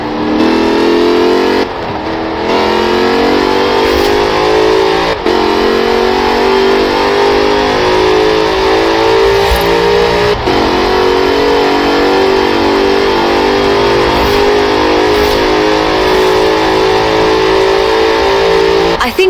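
A Jaguar Project 7 roars loud and close in Forza Horizon 4, its engine revving hard with rising pitch sweeps and a few brief gear-change breaks, sustained throughout.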